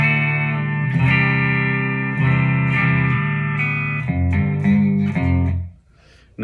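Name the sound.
electric guitar through BIAS FX 2 duo verb amp and cab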